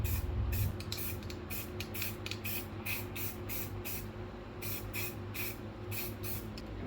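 A spray paint can sprays white paint in steady bursts of hissing, some short and some longer, with brief pauses between them, close and fairly loud.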